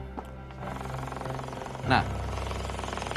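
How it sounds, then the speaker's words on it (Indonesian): A motorcycle exhaust at a legally allowed loudness idles with a steady low rumble, rising in a brief rev near the end, while people talk over it. "saya punya contoh contoh bunyi knalpot yang boleh dan nggak boleh"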